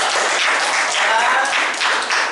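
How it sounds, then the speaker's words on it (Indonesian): Students in a classroom clapping for group 2 after their presentation, a busy patter of many hands close by with some voices mixed in, steady to the end. "Boleh tepuk tangan dulu kelompok 2"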